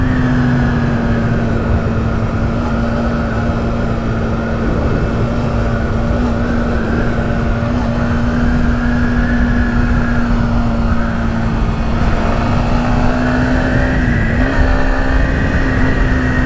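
Steady engine drone from a Yamaha XSR motorcycle cruising a mountain bridge road in Japan, loud and close under heavy wind rush, with the pitch wavering slightly as a car passes by.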